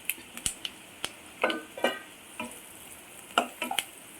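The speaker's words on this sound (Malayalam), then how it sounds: "ക്യാപ്സിക്കം, ഇത് 3 കൂടെ നല്ല രീതിയിൽ വഴറ്റണം." Capsicum, garlic and onion being sautéed in a pan for homemade chicken pasta, heard as faint scattered clicks and brief stirring scrapes over a soft sizzle, close and quiet with no talking.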